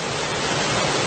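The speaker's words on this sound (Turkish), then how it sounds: "Deregozir'de şelaleyi çekiyoruz." A waterfall at Deregözü roars as a dense, steady rush of falling water, loud and close, with no breaks or voices over it.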